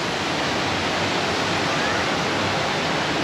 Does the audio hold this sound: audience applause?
no